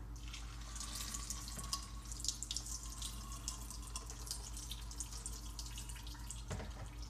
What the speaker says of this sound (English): I'm pouring this in my Thai tea strainer.